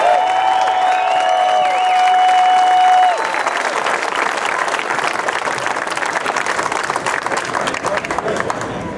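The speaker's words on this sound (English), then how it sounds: "So everybody, big round of applause for Cameron Beaubier." Steady applause from a crowd at a superbike race podium ceremony at Sonoma, starting under a sustained tone and then swelling into dense clapping that continues to the end.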